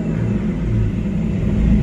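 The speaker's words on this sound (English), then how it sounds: "I'm gonna go wide open throttle for just a split second" An OBD1 Ford car engine roars at wide open throttle during a diagnostic test in a sustained low rumble, loud and close, holding steady for a couple of seconds with no clear rise or fall.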